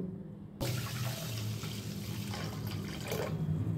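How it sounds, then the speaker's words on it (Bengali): Rice is washed under running water in a sink, a steady splashing tap flow starting abruptly and continuing close with sloshing grains. "3 বার জল পাল্টে পাল্টে চাল ধুয়ে নেব এইভাবে।"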